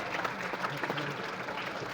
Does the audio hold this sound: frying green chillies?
no